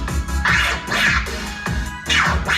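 A DJ does slow baby scratches on a turntable over a slow hip hop beat, the scratches coming as a pair of forward-and-back swipes every bar, loud and close above the steady kick-and-snare pattern.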